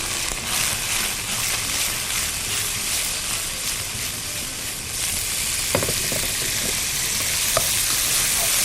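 Chicken frying in a pan for Chinese egg noodles, a loud, steady, hissing sizzle that holds throughout, with a few small clicks and taps near the end.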